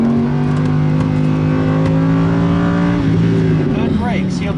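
A 2015 Lamborghini Huracán LP 610-4 accelerates at full throttle, its loud engine note climbing steadily in pitch before shifting near the end, with passengers inside the cabin.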